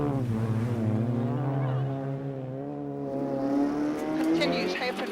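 A Proton Satria S1600 rally car drives a British rally stage, its engine note climbing and falling through gear changes with loud harmonic howl, while a narrator talks over it.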